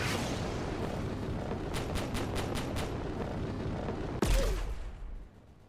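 A Roblox Base Battle jet's front-facing gun rattles off a quick run of evenly spaced shots over a constant engine roar, followed by a single louder blast before the roar fades.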